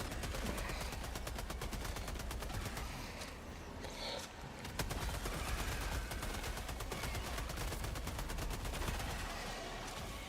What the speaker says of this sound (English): I love the grenade launcher.